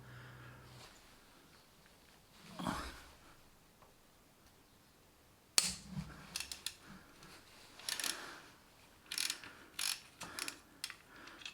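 A 13 mm wrench on the bolts of a BMW 1150GS, loosened to drop the alternator and slacken its belt, makes quiet close ratcheting clicks and metallic turning sounds in short bursts, louder after a sharp clank partway through.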